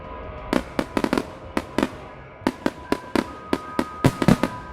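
Fireworks going off in a rapid, irregular series of sharp bangs and cracks, some doubled or clustered, each loud and distinct against a quiet background.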